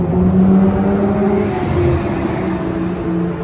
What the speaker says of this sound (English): you have the best American muscle car you can buy, a Dodge Viper ACR